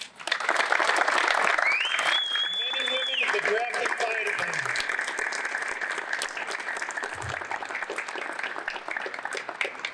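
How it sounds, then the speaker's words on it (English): Audience at a fire chief pinning ceremony applauding the Grafton Fire Department, steady dense clapping lasting several seconds, starting just as a voice speaks and continuing alone. "they really do deserve a round of applause"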